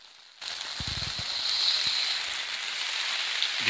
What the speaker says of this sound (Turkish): yağmur başladı, şiddetli bir yağmur yağıyor.